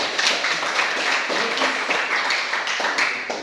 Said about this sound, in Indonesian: Tepuk tangan kawan-kawan